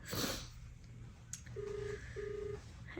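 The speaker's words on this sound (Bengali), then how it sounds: "এবার অন্য নাম্বার, তারা আর একটা নাম্বার ডায়াল করেছি, রিং হচ্ছে" A telephone call rings out late at night: two long, steady ringback tones sound one after another over a low background hum, with a brief click before them.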